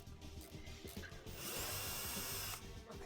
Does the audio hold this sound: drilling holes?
yes